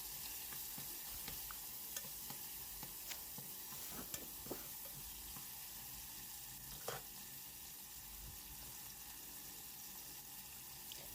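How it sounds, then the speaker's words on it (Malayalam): A pan of food being stirred while cooking a home lunch: soft sizzling with scattered scraping and clinking taps of a spoon, steady and fairly quiet throughout, no talking. "എന്നിട്ട് നല്ലോണം നോക്കി ഇളക്കാം."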